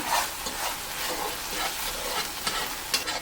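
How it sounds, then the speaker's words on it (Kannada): Steady sizzling of masala for mackerel fish fry frying in a pan, with scraping stirring strokes coming through in short bursts, close and fairly loud. "ಇದನ್ನೊಮ್ಮೆ ಚೆನ್ನಾಗಿ ಹುರ್ಕೊಳ್ಳೋಣ"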